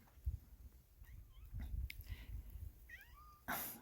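An old outdoor cat meows a few times in short, rising calls outdoors, with low rumbling and rustling in the background and a brief burst of noise at the end.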